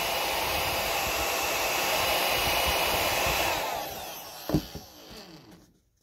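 A hair dryer or heat gun blows steadily for several seconds while heating a small label, then cuts off, leaving a few faint clicks and handling sounds.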